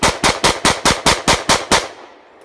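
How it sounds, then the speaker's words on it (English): Nine sharp, loud shots from a Jericho 941 pistol fire in rapid, evenly spaced succession, followed by a brief ringing fade. "I can load in another round, drop the rack, keep on firing"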